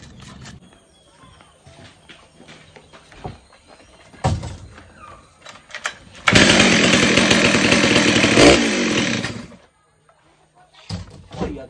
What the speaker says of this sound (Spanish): Oiga, que sierra pa' buena